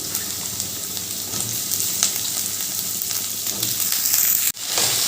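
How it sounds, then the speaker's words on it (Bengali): Chopped bottle gourd fries with onion and garlic in a pan, giving a loud, steady sizzle with occasional stirring scrapes and a brief dip near the end. "এবার লাউগুলো ভালো করে ভাজবো"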